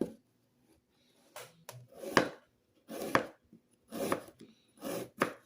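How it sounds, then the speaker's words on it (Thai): A freshly sharpened knife chopping fruit: a series of crisp cuts, some single and some in quick pairs, landing close to the listener against near silence. "เดี๋ยวเรามาทดลองนะครับ ว่าเราจะหั่นผลไม้เหมือนเดิมนะครับ"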